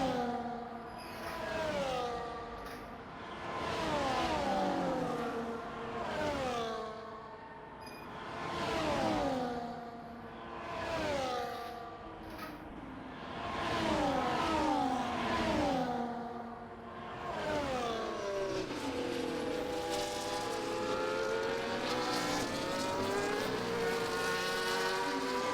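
Several F1 race cars in the F1 24 video game at the Saudi Arabian Grand Prix, engines rising and falling in pitch through repeated upshifts and passes, loud and continuous with a steady high whine toward the end.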